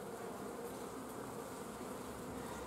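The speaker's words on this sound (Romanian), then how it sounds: "Au și venit albine, uite hoațele cum dau pe deasupra" Honeybees buzzing above an open hive of a weakened nucleus colony with a young mated queen, forager bees swarming over the frames; a continuous, fairly soft, close-up hum with no voices.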